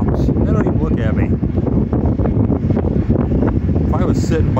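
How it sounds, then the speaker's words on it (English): Strong wind buffets the microphone with constant low rumbling noise, and faint voices come through under the gusts. "You get away from traffic noise, but it's real windy back here."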